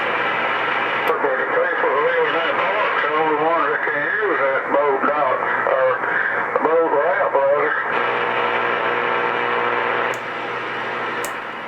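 Steady, loud static hisses from a Royce 639 CB radio receiver throughout, with a warbling tone weaving through the middle section before the hiss settles down again.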